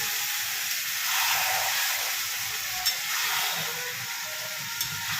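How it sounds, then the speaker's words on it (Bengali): Chicken masala being stir-fried with a little water in a pan while making chicken do pyaza, giving a steady broadband sizzle and hiss with a few faint utensil clinks, close and continuous with no talking. "চলুন ভালো করে কষে নিই, তারপরে আসছি নেক্সট স্টেপে।"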